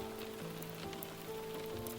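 Rain falling steadily, a soft continuous patter with scattered drops, heard faintly under a low sustained tonal hum.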